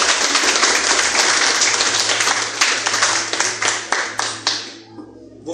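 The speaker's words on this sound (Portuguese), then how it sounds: "Palmas para Jesus." A church congregation claps for Jesus, a loud, dense wave of applause that thins into scattered, rhythmic claps before fading out.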